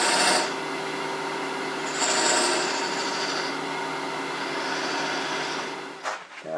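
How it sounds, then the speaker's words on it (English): Three-sided point tool cutting decorative grooves into a wooden bowl on a lathe, a continuous close scraping rasp over a motor hum, with brief brighter bursts as the tip bites, no talking. "use that point tool, 3-sided, and just come in there and just put some decorative grooves in there"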